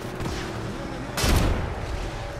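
A burst of gunfire crackles in a competitive Apex Legends pro league match, one loud sharp shot cluster standing out over a continuous busy wash of battle noise.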